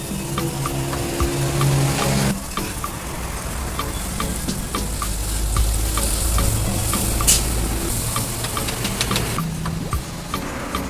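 Curry leaves and half a cut tomato sizzle in a little oil in a pan for kothu parotta, a steady loud frying hiss with scattered crackles and occasional stirring scrapes throughout.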